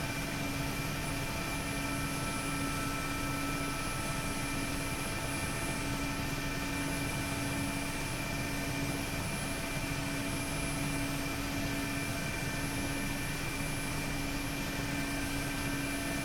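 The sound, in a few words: Mi-8MTV2 helicopter flying in the DCS video game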